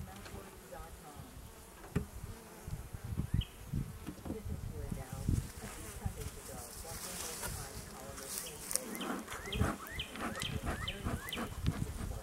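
Honeybees buzz in a dense, continuous drone during an open beehive inspection, with brief clicks and handling knocks from frame work scattered throughout.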